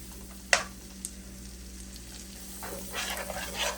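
Imitation crab seafood boil with garlic butter being stirred in a pot, a soft scrape or clink near the start and again around one second, then a low steady sizzle that swells toward the end.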